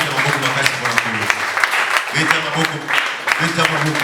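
A church congregation claps to acclaim the Lord, an uneven patter of hands heard alongside a preacher's amplified voice and a sustained background tone.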